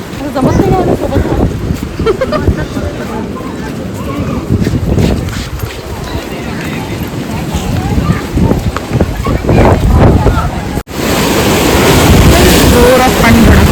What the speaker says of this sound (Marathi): जोरात पाणी धडकलंय.